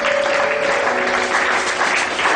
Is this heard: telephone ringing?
no